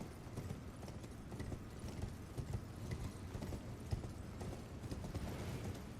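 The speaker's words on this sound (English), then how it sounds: "This is cool, you get to ride your horse through here." Horse hooves clip-clopping in a steady, continuous gallop rhythm through Elden Ring Shadow of the Erdtree, moderately loud over a dense low rumble of in-game ambience, with no talk.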